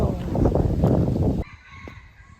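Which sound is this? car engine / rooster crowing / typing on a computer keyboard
rooster crowing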